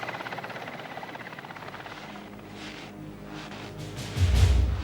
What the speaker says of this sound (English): The helicopter races back to refuel.